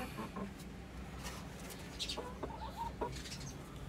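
Tiger breed hens clucking in a farm coop, a steady run of soft, close clucks with a few sharper calls, and no talking.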